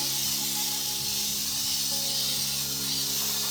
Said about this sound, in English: Spray glue this one, spray glue here